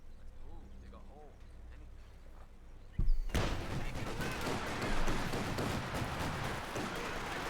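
Gunfire from the strategy game Company of Heroes 2, starting as a sudden loud burst partway through and continuing as dense, sustained battle noise after a quieter, muffled opening.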